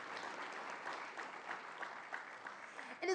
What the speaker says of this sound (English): Let's hear a round of applause for these amazing individuals.